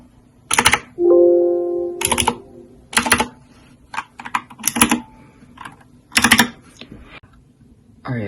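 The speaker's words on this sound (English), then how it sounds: "if you want to hear each individual key" Clacky blue-switch keys on a Keychron K2 mechanical keyboard, struck one at a time in separate sharp bursts with short gaps, including a longer space bar or backspace press, close and crisp.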